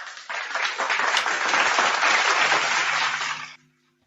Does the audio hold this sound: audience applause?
yes